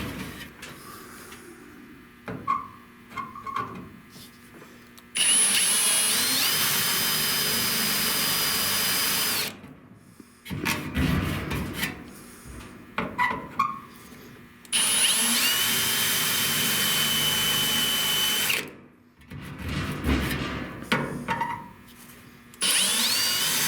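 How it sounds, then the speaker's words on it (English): A power drill boring a small hole into a rusty rear deck panel whines loudly in two sustained bursts of several seconds each, with quieter handling clatter between them. "So you drill a little small hole"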